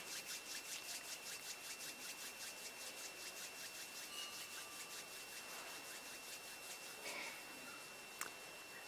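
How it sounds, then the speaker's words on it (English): Palms of the hands rubbed gently together at chest level during a guided meditation, giving a soft, steady, rhythmic swishing of skin on skin, quiet and close, repeating in even strokes with no talk. "And gently rub the palms of your hands against each other."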